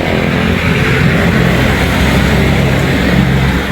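A motor tricycle runs in a city bus lane in Pasay, its engine loud and close with a continuous low rumble and mid-range buzz amid street traffic.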